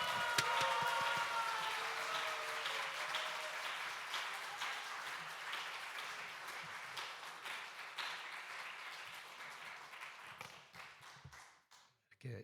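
A church congregation claps enthusiastically to welcome a new pastor at his installation service in the sanctuary, a dense, steady wash of applause that gradually thins and fades toward the end.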